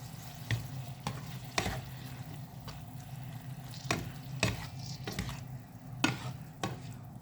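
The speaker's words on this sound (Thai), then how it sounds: "คนให้เข้ากันจ้ะ" Squid stir-fried with holy basil is stirred in a pan: a soft, quiet sizzle runs underneath while a utensil scrapes and taps the pan in irregular sharp clinks.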